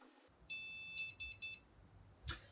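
A Gigabyte motherboard with an AMD 9800X3D emits error-code beeps during a failed reboot: one long high tone followed by several short beeps in quick succession, near and clear, then a brief thump.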